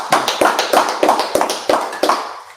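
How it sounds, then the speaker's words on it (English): A few people clap together on a podcast, sharp rhythmic claps at a steady pace, fairly loud and close, no talking over them. "All right, clap it up."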